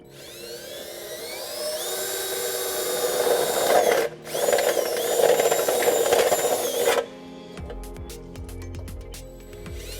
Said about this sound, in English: This is where we can drill using a 5/8 drill bit